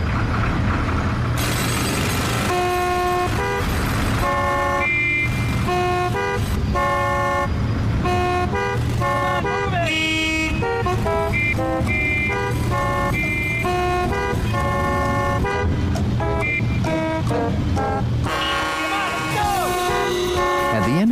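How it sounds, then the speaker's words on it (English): Sampled car horns replayed at set musical pitches form a tooting melody for a Jeopardy! radio ad called Traffic, honks stacked in steady rhythmic phrases over a dense, loud music bed for the whole stretch. "sampled a bunch of car horns and then played them in, specific pitches"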